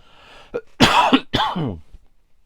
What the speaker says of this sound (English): Just bear with me, I'm going to have to cough.